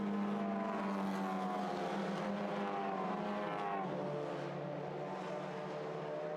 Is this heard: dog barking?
no